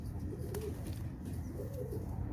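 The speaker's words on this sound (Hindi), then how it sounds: "ये दूसरा कबूतर है" A pink-and-brown gulabi khaira domestic pigeon coos softly nearby, a few low throaty rolling calls over a faint steady background hum.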